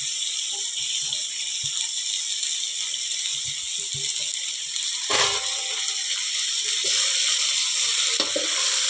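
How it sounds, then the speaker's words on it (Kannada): Chopped vegetables fry in a pan with a steady, close sizzle, broken by occasional scraping and stirring knocks. No voices are heard. "ಇದನ್ನು ಸ್ವಲ್ಪ ಚೆಂದ ಫ್ರೈ ಆಗಲಿ"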